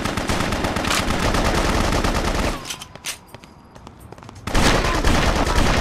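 Rapid automatic gunfire from guns in the video game BloodRayne: Terminal Cut, loud dense bursts of shots that stop for about two seconds, then resume at full intensity.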